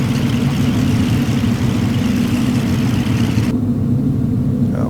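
A Cessna 310 taxis in X-Plane 11, its twin piston engines giving a steady, loud low rumble at idle-like power throughout, with no voices.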